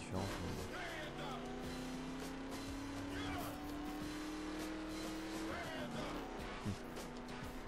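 A small car drives in the racing game The Crew, with engine hum, shifting revs and squealing tires under continuous talk.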